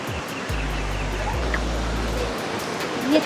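Piduan Falls, a wide curtain waterfall, gives off a continuous broadband rush of falling water, with a low steady hum running beneath it for a couple of seconds.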